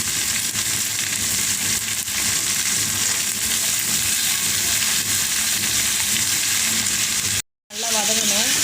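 Tomatoes for araikeerai kadaiyal sizzle and fry steadily in a pan, a loud, constant crackle with faint stirring. It cuts out briefly near the end, and then a voice speaks over the renewed sizzle.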